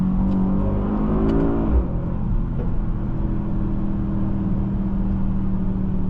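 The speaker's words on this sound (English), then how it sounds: "It's just fun downshifting and just accelerating into it." A 2024 Mercedes-AMG GLS 63 engine drones steadily from the cabin, with a quick blip as it downshifts, then a sustained, rising pull under acceleration, loud and continuous.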